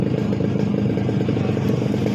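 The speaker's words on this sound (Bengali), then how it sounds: "ইঞ্জিনের সাউন্ড নিয়ে কোনো টেনশন করা লাগবে না। এর উপরে এত সুন্দর ইঞ্জিনের সাউন্ড" A Yamaha RX115 motorcycle engine runs steadily at close range, a continuous low, buzzing idle with a faint mechanical clatter and no talking.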